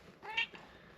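A house cat gives a single short meow, fairly close but soft, in an otherwise quiet room.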